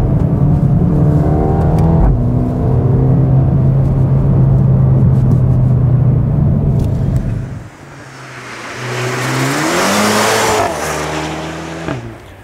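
Mercedes-AMG A35 engine droning loudly as the car drives, holding steady revs, then easing off before rising again in a strong acceleration with climbing pitch, close and alone.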